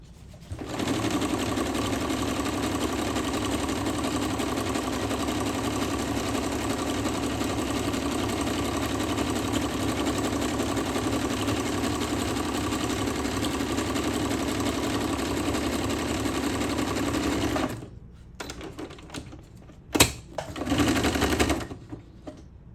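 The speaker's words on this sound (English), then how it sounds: "Let's do a zigzag stitch." A Singer sewing machine runs a zigzag stitch with a steady close mechanical whir and clatter for most of the clip, then stops with a few scattered clicks and a short final burst.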